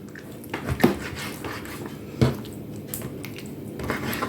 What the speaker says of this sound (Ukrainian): Нарізаю м'ясо на кусочки.